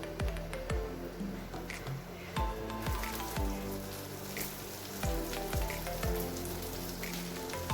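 Tomato masala gravy for an egg dish cooking in a pan, with a soft steady sizzle and bubbling, broken by repeated sharp taps and scrapes of a utensil.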